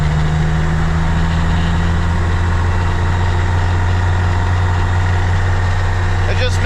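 A skid steer used for snow plowing and hauling wood runs in sixth gear, giving a loud, steady low engine drone with a constant hum throughout. Someone talks over the engine.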